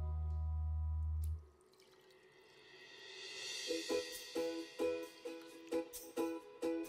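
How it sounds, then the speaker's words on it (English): Water pours steadily into a clay pot holding washed rice, the pitch rising as it fills, followed by a few scattered drips and clinks. "add 2 cups of water"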